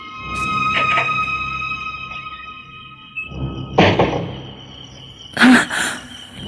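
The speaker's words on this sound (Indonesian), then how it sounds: "Suara pintu dikunci." A door is locked in an Indonesian radio drama, giving a few distinct clunking thuds spaced over several seconds, close and fairly loud against a faint hum of insects or crickets.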